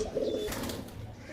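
Pigeons coo softly in a loft, a short faint call with a brief flutter of other bird sounds.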